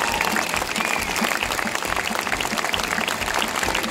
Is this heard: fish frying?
no